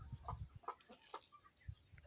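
Chickens on a small farm in the Northern Philippines cluck softly and repeatedly in short bursts while being fed during hot summer weather. The sound is faint and close, with scattered clucks and light rustling.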